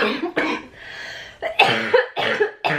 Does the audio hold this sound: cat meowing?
no